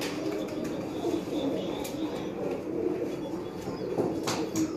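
Ustad Mian Nazir's pigeons coo in low, repeated rolling phrases close by, with faint chirps and occasional wing rustles and no speech over them.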